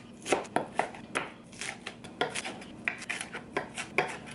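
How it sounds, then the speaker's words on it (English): A knife chops food on a cutting board in a home kitchen, a series of sharp, irregular taps close by, with no talking. "I feel like it's getting to a point where I'm chopping it too much"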